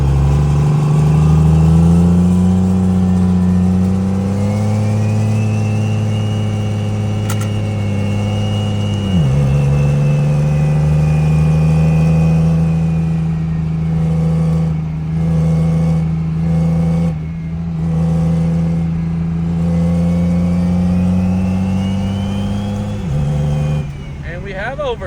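A car engine pulls hard on the street, its steady tone rising, dipping sharply at a gear change, then climbing again into overdrive and dropping once more near the end, with someone talking over it.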